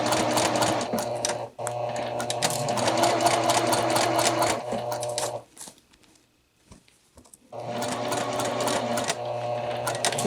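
A sewing machine stitches a two-piece collar seam, its steady motor whir and rapid needle chatter running close and loud for several seconds, pausing briefly in near silence, then starting up again.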